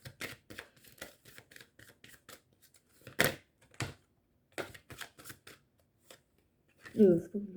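Tarot cards shuffled and drawn at a table: a series of short, crisp card flicks and slaps in quick irregular bursts, with a louder riffle partway through and a brief spoken word near the end.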